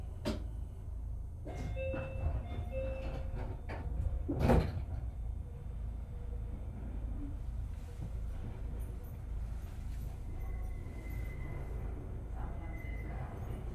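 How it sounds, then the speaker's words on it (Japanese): Doors open and close on a Meitetsu Panorama Super rapid limited express on the Nagoya Main Line, heard over a low, steady interior rumble. Soft electronic chime tones ring out, and a single sharp door thud lands about midway. "ドアを閉めますご注意ください"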